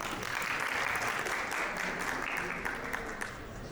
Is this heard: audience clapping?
yes